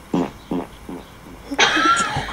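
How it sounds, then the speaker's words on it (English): Fart with an echo: three short low blurts spaced evenly about half a second apart, each fainter than the last, followed by a louder, noisier burst at the end. "Here comes an echo fart."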